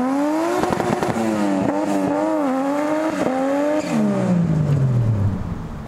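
A Toyota Chaser car revs hard and accelerates, its engine note climbing and dipping through gear changes with a brief tire squeal, loud and close, then the pitch drops as it pulls away.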